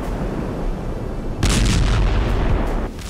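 Airstrike explosion destroying a multi-storey building in Khan Younis, Gaza: steady heavy rumble, then a loud sudden blast at mid-clip that roars on for over a second before easing back to a lower rumble.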